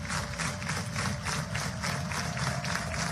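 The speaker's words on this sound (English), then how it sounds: "Listen to this crowd." At a softball stadium during an Oklahoma vs Kansas game, a crowd cheers and claps steadily, a loud unbroken roar with no voice standing out.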